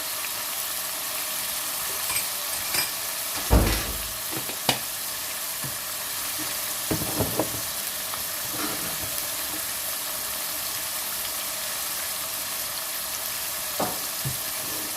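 Dry spices frying in hot oil for chana masala, a low steady sizzle broken by a few sharp scrapes and clinks of stirring, close and unaccompanied by speech.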